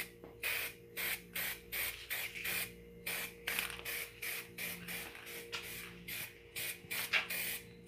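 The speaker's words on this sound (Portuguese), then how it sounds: "Você tem que agitar o spray bastante assim, tá?" A spray paint can sprays in a steady run of short, loud hissing bursts, roughly one every half second, for a project of a styrofoam and cement plant pot. No one talks.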